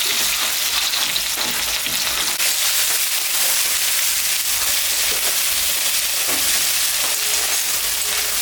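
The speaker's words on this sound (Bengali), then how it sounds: "এখন আমি কাটা পেঁয়াজটা দিয়ে দিব" Chopped onion and garlic fry in hot oil with chilies, a loud, continuous crackling sizzle that fills the whole stretch with a dense hiss and no voices.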